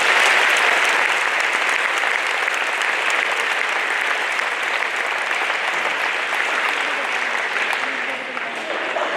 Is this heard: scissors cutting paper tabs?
no